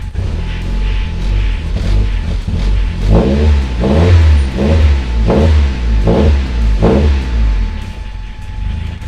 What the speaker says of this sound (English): Those lifters are clacking.